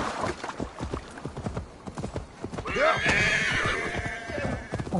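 Horse hooves clip-clop in steady rhythm in Assassin's Creed Valhalla, then a loud, close neigh and whinny rises over the gallop and holds to the end.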